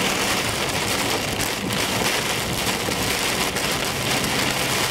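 Steady, dense rain pounds a vehicle in a violent storm, a loud continuous hiss of drops drumming on the roof and windshield with no pauses or voices.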